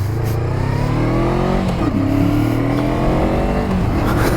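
A 2023 Honda SCL 500 twin motorcycle engine revs up through rising and falling pitch sweeps while ridden, loud and close, with no voices.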